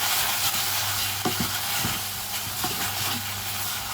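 A pan of mushrooms with cheesy sauce melting over them gives a steady, soft sizzle with faint stirring scrapes, close and continuous with no talking.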